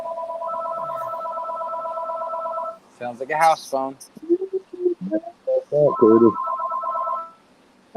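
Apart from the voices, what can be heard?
house phone ringing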